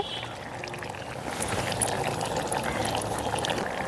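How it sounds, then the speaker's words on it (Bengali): Spiced paste being poured into a simmering fish curry with broccoli, giving a steady wet trickle over the low bubbling of the pot, close and continuous without pause. "এখন দিয়ে দেবো বেটে রাখা সেই মশলাটা"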